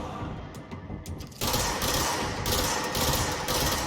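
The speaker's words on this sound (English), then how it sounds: "Somebody's still shooting at me" Rapid bursts of gunfire in the video game Control, a quieter stretch of scattered shots giving way after about a second and a half to a dense, loud, sustained volley of overlapping gunshots.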